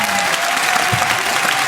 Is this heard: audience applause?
yes